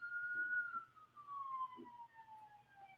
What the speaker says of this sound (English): There's a siren going on outside